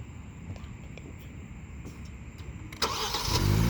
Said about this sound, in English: I'll go ahead and start it up so you can hear them.